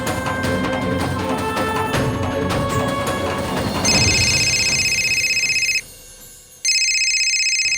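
A telephone rings in a domestic drama scene: a loud electronic trill starts partway through over background music, breaks off for a moment, then resumes.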